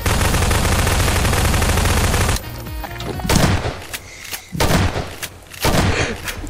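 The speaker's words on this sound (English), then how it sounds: "I'm gonna try to shoot something." Rapid, continuous gunfire in Garry's Mod Prop Hunt, loud and dense for the first couple of seconds, then broken into shorter bursts and single shots.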